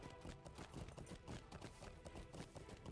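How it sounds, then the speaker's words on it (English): Hooves of a regular horse ridden in a fantasy video game, a quick, steady clip-clop gallop that keeps a constant rhythm, faint and with no voices over it. "I'm riding a regular horse right now"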